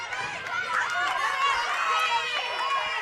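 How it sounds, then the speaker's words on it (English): A high school girls' bowling crowd at the Midwinter Classic finals cheers and shouts in a dense, excited wash of voices, steady and fairly close for the whole stretch. "the Beaver Down crowd starts going wild for Samantha Rettig"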